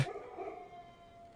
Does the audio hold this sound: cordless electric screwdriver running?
no